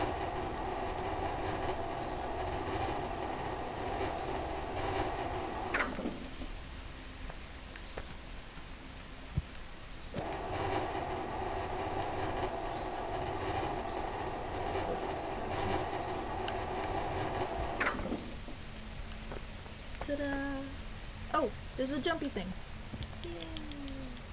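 A train rumbling past in the video game Stray, a steady close roar with clattering that drops out briefly and returns, with a voice talking over it.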